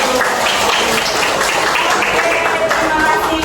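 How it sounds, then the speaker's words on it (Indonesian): A classroom group claps in steady, continuous applause, loud and close throughout, with some voices mixed in. "Oke, tepuk tangan dulu."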